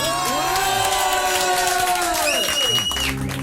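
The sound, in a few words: audience cheering ovation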